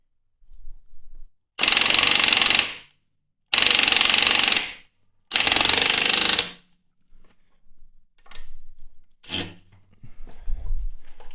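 Masterforce 1/2-inch impact wrench in auto mode driving a lug nut, three loud, sharp hammering bursts of about a second each with brief pauses between, followed by quieter clunks and handling noise.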